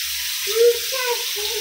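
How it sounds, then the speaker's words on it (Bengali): Vegetables and cabbage fry in a pan for homestyle chowmein with a soft, continuous hiss of sizzling, while a voice speaks briefly over it. "সবজিগুলো ভালো করে ফ্রাই করবো"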